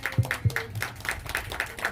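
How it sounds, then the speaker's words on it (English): A small group claps for a staff member at a community gathering. The claps are sparse, distinct and fairly close, falling in a loose rhythm with a few heavier hits at the start. "So I want everybody here to give her a round of applause."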